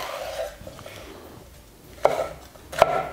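A knife slices through a crisp sweet bell pepper on a cutting board, a few crunchy cuts landing on the board after a quiet stretch.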